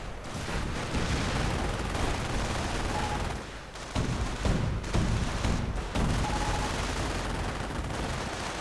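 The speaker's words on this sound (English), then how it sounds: "the Panzergrenadiers are just firing away at the buildings" Dense, continuous gunfire from Panzergrenadiers shooting at buildings in a World War II strategy game, a loud unbroken wash of rattling shots and blasts with brief dips in intensity.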